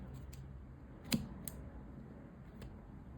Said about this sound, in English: Once we have chained the length that we are happy with, we can cut our yarn